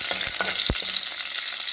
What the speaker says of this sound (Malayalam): തെല്ല് ഫ്രൈ ആവട്ടെ.